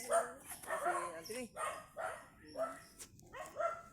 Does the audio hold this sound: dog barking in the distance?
yes